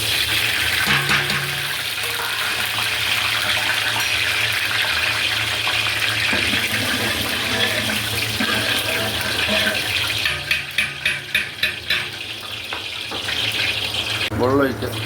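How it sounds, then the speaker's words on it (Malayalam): Water pours in a continuous loud gush into a pot for beef biryani, a steady rushing stream that briefly bubbles and splashes near the end. "വെള്ളം ഒഴിക്കുക."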